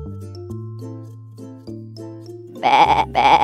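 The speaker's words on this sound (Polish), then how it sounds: "Owca. Be, be, be." A sheep on a farm gives two loud, close bleats near the end, following a stretch of simple melodic tones.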